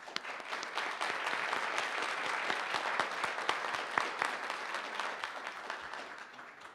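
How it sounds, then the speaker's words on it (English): Warm applause from the audience at a City Club Friday Forum, a sustained, even wash of many hands clapping close by that fades gently over nearly seven seconds. "Please join me in a warm round of applause for all of them"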